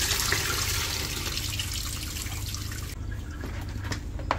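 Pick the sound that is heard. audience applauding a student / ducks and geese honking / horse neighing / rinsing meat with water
rinsing meat with water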